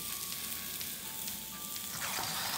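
Tomatoes and garlic sizzle steadily in a frying pan over raised heat, a dense continuous hiss with a few faint clinks toward the end, no voices.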